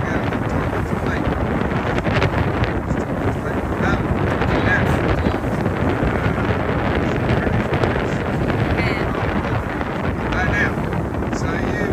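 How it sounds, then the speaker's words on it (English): Strong wind buffets the microphone aboard a sailing boat at sea, a steady loud roar with water and hull noise beneath, continuous and unbroken for the whole stretch. "It's a bit windy."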